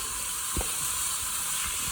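Onions sautéing in a pan for pasta and lentil soup give a faint, continuous sizzle, with a few soft low knocks from stirring.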